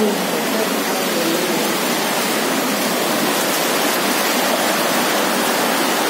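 Floodwater rushes into houses in a loud, continuous roar during heavy rain at Virnoda, near Tuem, a steady broadband torrent with no breaks from start to finish.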